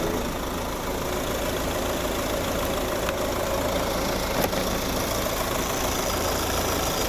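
Steady, even idle of a 2014 Peugeot 308CC cabriolet with a 2.0 HDi diesel and automatic gearbox, running smooth and quiet with a constant low hum and no misses, heard up close without speech.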